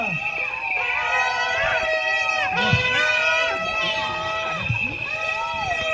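A church congregation at a civil wedding celebration cheering and acclaiming, a continuous dense crowd roar with shouting and ululating voices, loud and sustained throughout.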